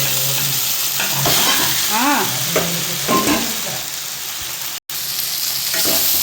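Pasta being stir-fried and tossed in a pan, a continuous close sizzle with scraping stir strokes, briefly cut by a sharp dropout near the end, and no speech.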